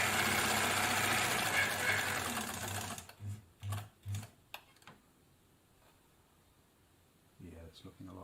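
An Elna Supermatic sewing machine runs a straight stitch in a steady whirring burst, then stops for several short mechanical thumps and clicks and a quiet pause before a brief restart.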